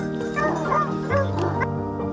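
Pedigree hunting hounds bay and yip at a boar-hunting trial in Corsica, several dogs overlapping in a continuous excited chorus, close and loud.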